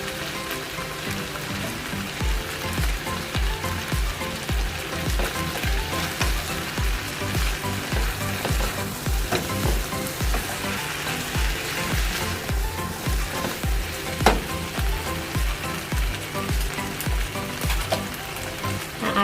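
Tomato paste fries in a hot pan with a dense, steady sizzle and crackle that stays close and even throughout, with faint stirring scrapes and no talking.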